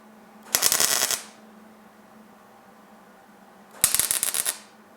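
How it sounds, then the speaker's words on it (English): Two loud bursts of crackling MIG tack welds on a steel patch panel for a rusted sail panel and window channel of a GTO, each about half a second long, separated by a quiet pause over a low steady hum. "let me get the welder out, try to tack that up before the tape lets go"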